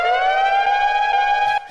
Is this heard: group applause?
no